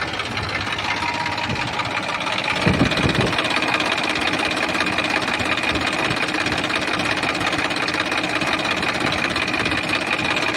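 A Massey Ferguson 1035 Mahashakti diesel tractor engine idles loudly up close with a steady, even rumble and a brief thump near the start.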